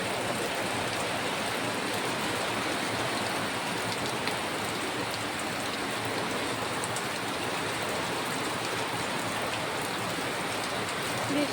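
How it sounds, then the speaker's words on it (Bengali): Summer rain pours down on potted garden plants, a dense, even hiss of drops that holds steady and fairly loud throughout with no pauses. "দেখছি গরমে বৃষ্টি হচ্ছে"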